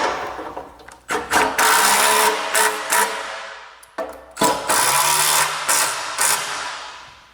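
A power driver tightens bolts on a large home theater couch being built, firing in two clusters of loud, close whirring bursts with brief stops between them.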